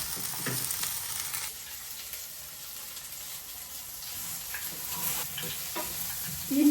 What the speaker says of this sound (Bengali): এই যে ডাল ভাজতেছি